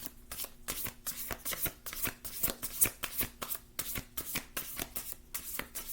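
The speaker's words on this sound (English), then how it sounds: "One more shuffle." A tarot deck is shuffled by hand up close, a steady run of quick papery flicks and soft slaps repeating in rapid rhythm throughout, with no talking.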